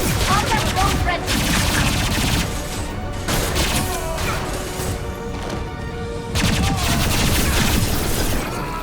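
Rapid gunfire in a Mass Effect 2 firefight on Insanity difficulty, with dense bursts of shots and impacts crashing almost without pause at close range, while voices shout briefly over the battle.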